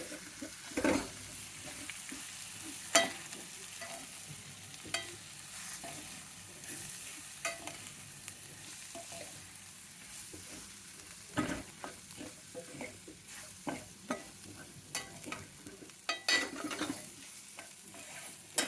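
Vermicelli (semiya) frying in a pan while being stirred, with a steady low sizzle and repeated scraping and tapping strokes of the spoon against the pan throughout, close and fairly quiet.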